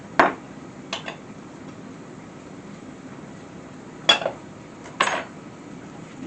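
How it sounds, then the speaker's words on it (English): Plate grabbed in a kitchen while pancakes cook, giving a few separate sharp clinks of crockery, one early, then a pair near the end, over quiet room tone. "let me get a plate"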